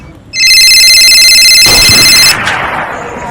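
A mobile phone rings loudly and close for about two seconds with a steady electronic tone while a call is placed, then cuts off into a rustling, muffled handling noise.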